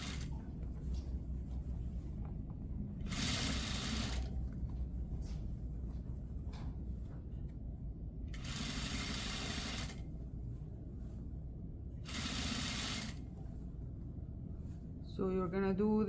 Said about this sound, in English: I will also flip the direction of my sewing so that the seam allowance is under the facing